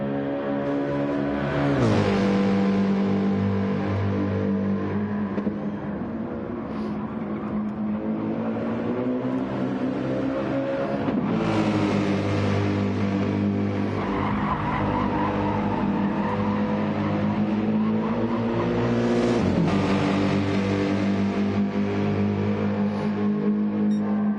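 Race cars lap the Circuit de Barcelona-Catalunya in the Gran Turismo 7 video game, engines whining up and down through gears with tyre squeal as cars sweep past in three surging passes, loud and continuous.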